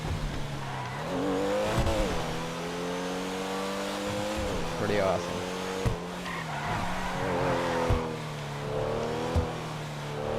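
Pfister Comet S2 sports car in GTA 5 Online, driving on a route to Chumash with a steady engine drone, repeated revs and tire skids, while a person speaks briefly over it.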